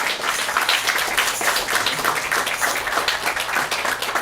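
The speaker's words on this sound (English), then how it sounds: "Please give yourself a round of applause." An audience at a live radio-station music preview event claps steadily throughout, a moderately dense, continuous patter of hands that stays at an even level from start to finish with no voices on top.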